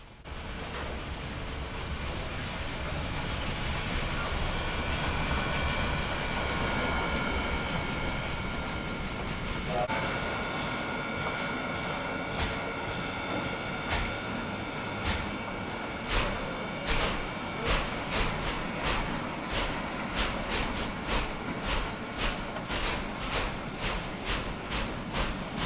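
A tender-first EE electric locomotive hauling a Cincinnati commuter train starts away from the station with a steady rumble, then a quickening series of rhythmic wheel clicks over rail joints as it gathers speed.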